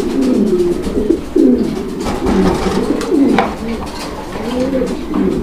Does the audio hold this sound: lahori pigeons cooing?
yes